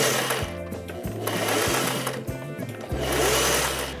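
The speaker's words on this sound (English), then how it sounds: "So I'm going to be sewing all along, and I'm just gonna leave like a little opening on the bottom" A sewing machine stitches scrap fabric into a corset top, its needle running in a steady close buzzing drone that speeds and slows in short bursts with brief stops between runs, no voices over it.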